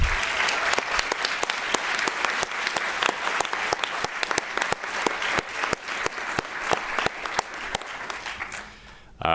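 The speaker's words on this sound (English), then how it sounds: "let's have a big round of applause for everyone who helped get us to this day" At a medical school Match Day ceremony, an audience gives a long round of applause, dense and lively, with sharp individual claps standing out before it fades at the end.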